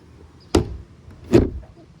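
A boat's gas-strut hatch lid on a 2013 Pathfinder 2300 HPS bay boat gives two short, sharp knocking rubs against its hinge, close and distinct, separated by a brief quiet pause.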